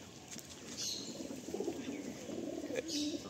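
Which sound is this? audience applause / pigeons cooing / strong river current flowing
pigeons cooing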